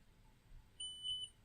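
A Mitutoyo coordinate measuring machine probe touching a surface gives a faint, thin, sustained electronic beep lasting about half a second over quiet room hum.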